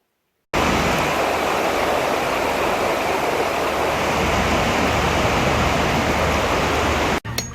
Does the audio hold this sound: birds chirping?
no